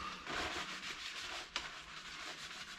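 A cloth rubs steadily over the restored rear-view mirror of a Nissan Figaro, a soft continuous scrubbing texture with one brief knock midway, close and moderately quiet with no talking.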